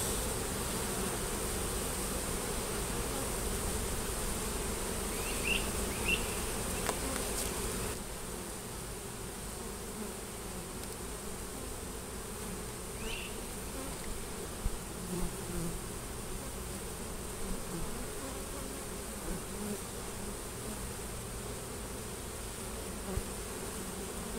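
A steady swarm of honeybees buzzing around a hive being moved into a box, a continuous droning hum that stays even throughout, with no voices.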